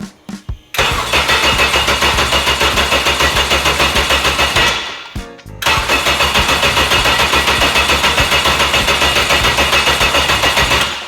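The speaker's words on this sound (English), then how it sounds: "Now let's fire this thing up." An abandoned Honda engine cranks over loudly and close in a fast, even rhythm of starter pulses. It makes two long attempts separated by a short pause and does not fire.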